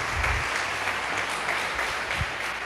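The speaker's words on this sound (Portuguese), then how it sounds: "Vamos aplaudir Jesus porque Ele merece." A church congregation applauds during an evening worship service, a steady wash of clapping from many hands that holds at an even level throughout, with no speech over it.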